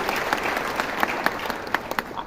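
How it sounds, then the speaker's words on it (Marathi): Audience at a peace committee meeting at NCPA, Nariman Point, Mumbai applauds Sanjay Pandey, a dense, steady patter of many hands clapping close by, with sharper individual claps standing out throughout. "तर सर्वांनी जोरदार टाळ्या याच्यासाठी द्याव्यात पांडे साहेबांच्यासाठी"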